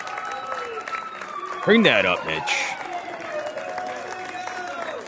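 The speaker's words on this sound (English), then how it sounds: "Look at that crowd action." A crowd claps at a TSX stock exchange event, a rough wash of applause that swells briefly midway. Someone talks loudly over it throughout.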